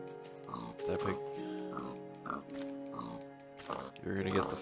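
Repeated pig oinks in Minecraft, a series of short rhythmic grunts under steady game music, with a voice talking over them.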